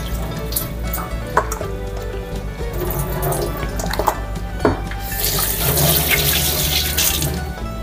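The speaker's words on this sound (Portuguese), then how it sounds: "Dá uma enxaguadinha aqui." Tap water runs steadily into a kitchen sink as beef ribs are rinsed, a loud continuous splashing rush that swells toward the end, with no one speaking.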